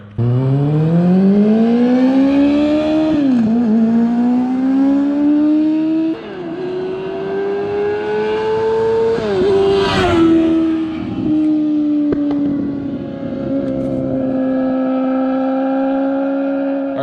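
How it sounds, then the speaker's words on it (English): A Kawasaki Ninja 636 sport motorcycle, just restored after a wreck, revs up through the gears on a test ride, its engine note climbing and dropping with each shift, loud and close throughout. "take it for a quick rip, see if I can go through the gears and make sure that transmission is working properly"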